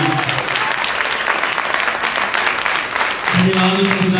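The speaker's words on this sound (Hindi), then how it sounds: "तो जोरदार तालियां तो बनती है मेरे जीवन परमेश्वर की" A church congregation breaks into loud, sustained applause during a Hindi sermon, dense clapping filling the room throughout, with a voice speaking over it near the start and again toward the end.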